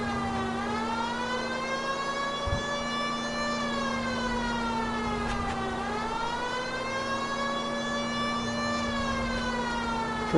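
A police car siren from the video game LA Noire wails continuously, rising and falling in slow sweeps over a steady engine hum, loud and close throughout.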